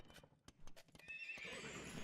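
Horses in the Age of Empires II video game, a rapid clatter of hooves building into a loud, bright neigh, close and alone with no talk.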